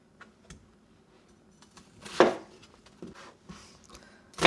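A knife chops an onion on a cutting board while spicy pork stir-fry is being made, giving a few scattered close cuts with one louder crisp chop near the middle and a final sharp cut.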